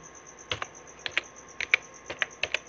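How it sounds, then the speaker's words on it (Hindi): A computer keyboard in MS Word taps out short pairs and clusters of crisp key presses, including Control plus Enter, close and clear over a faint steady hum. "नेक्स्ट न्यू पेज लेने के लिए कंट्रोल के साथ एंटर"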